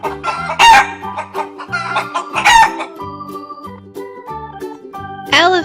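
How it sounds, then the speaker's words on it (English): A chicken clucks in a steady rhythm of short, close calls, with two brief louder squawks rising over the clucking and a final sharp call at the end. "chicken,"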